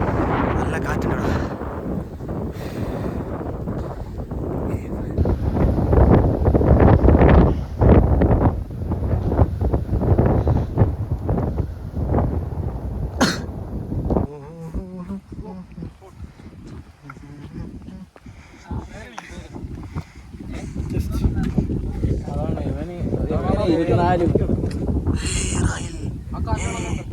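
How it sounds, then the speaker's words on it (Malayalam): Strong wind blows across Banasura Hill in Wayanad during a trek, a loud steady roar buffeting the microphone in gusts, with people speaking intermittently underneath. "നല്ല കാറ്റുണ്ട് ഇവിടെ"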